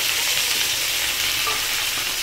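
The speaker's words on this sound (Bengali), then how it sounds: "তো বন্ধুরা দেখতে পাচ্ছ এখন তেল গরম হয়ে গেছে, তো আমি দিয়ে দেবো কটা জিরে" Cumin seeds sizzle and crackle in hot oil, a steady, loud, dense hiss with a brief pop near the end, no voices.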